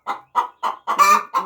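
Hens cluck in a farmyard in a quick, evenly spaced series of six close, clear clucks, the later ones fuller and more drawn out.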